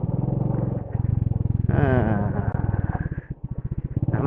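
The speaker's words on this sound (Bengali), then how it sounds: "একদম ইঞ্জিন ব্রেকিং করে করে গাড়ি নামাতে হবে" A motorcycle descends a steep, badly broken hill road toward Kolakham in second gear, engine braking with a steady low rumble and clattering over the rough surface, while someone talks over it throughout.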